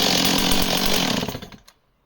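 Chainsaw running loud and close with a dense buzzing roar, then cutting out and dying away to silence within about two seconds.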